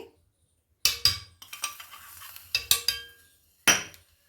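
A spoon stirs palak paneer in a pan, giving a few sharp metallic clanks against the pan in separate bursts, with quieter scraping between them and near-silent gaps, close and with no voices.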